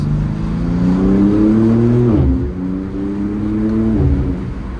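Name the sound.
2024 BMW G82 M4 Competition engine revving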